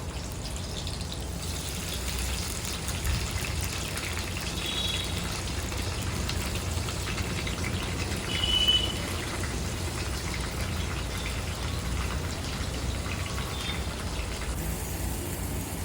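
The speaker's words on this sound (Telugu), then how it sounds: "ఇంకో కడాయి పెట్టుకొని అందులో ఒక 5-6 స్పూన్ల నూనె వేసుకొని 8 నుంచి 9 పచ్చిమిరపకాయల్ని వేసుకొని వేయించుకున్నాను" Green chillies and fresh mint sizzle in five or six spoons of oil in a kadai, a steady close crackling hiss that runs on without talk.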